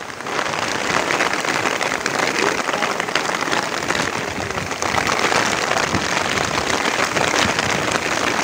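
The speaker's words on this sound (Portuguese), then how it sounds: "Tá chovendo e tá ventando." Heavy rain and gusting wind during a storm on the Tarumã Mirim river, a dense continuous hiss of drops pounding surfaces, loud and close, steady throughout with no talking.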